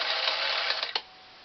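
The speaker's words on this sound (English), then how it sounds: "we'll run about a number 8 straight down through some denim" Singer 457 Stylist sewing machine running a straight stitch through denim, a fast steady mechanical whir lasting about a second before it stops abruptly.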